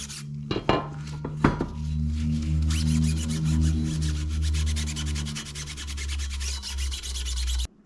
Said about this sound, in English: Take a little Scotch-Brite to the stem too, since it's kind of gnarly.